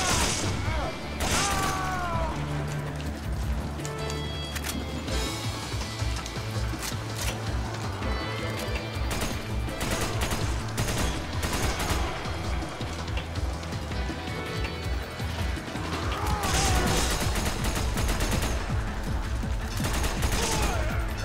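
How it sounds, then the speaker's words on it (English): Assault rifle fire in a Resident Evil 5 Mercenaries co-op match on the Mines map rattles in repeated bursts through a busy, continuous mix of game sounds and talk. "This assault rifle is mad fast on reload."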